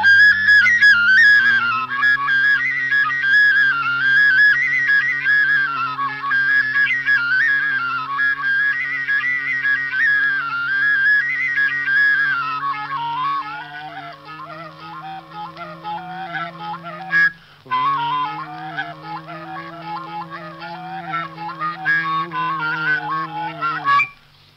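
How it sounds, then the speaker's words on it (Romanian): A shepherd's fluier, a folk flute improvised from a tânjală, plays a sustained, ornamented melody with a steady drone-like tone, close and loud, with one brief break before the tune resumes. "Am pierdut fluierul venind de la munte, am făcut un fluier din tânjală."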